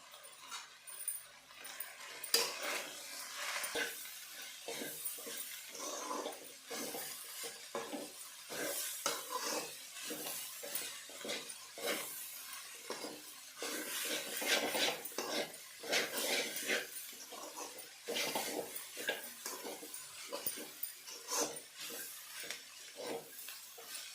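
A spoon stirs and scrapes through a drumstick leaf stir-fry with cooked lentils and grated coconut in a pan, in steady repeated rasping strokes, close and fairly quiet, with no talking.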